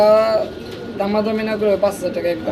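English Modena pigeons of Andalusian colour coo softly in a loft, their low rolling calls mixed with a voice talking nearby.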